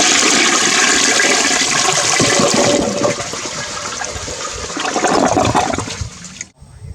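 A freshly installed toilet flushes loudly with golf balls sitting in the bowl: a strong, close rush of water surges, eases into a swirling drain, then swells again before cutting off abruptly.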